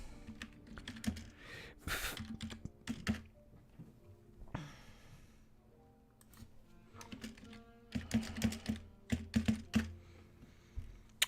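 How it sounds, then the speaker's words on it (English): Typing on a computer keyboard, quiet irregular key clicks in several quick bursts with brief pauses between, close and alone without talk. "let me just type it in like this"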